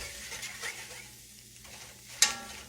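A spoon scrapes and stirs salt pork grease in a pan for gravy, with a soft sizzle underneath and one sharp clink near the end; quiet and close, with no talk.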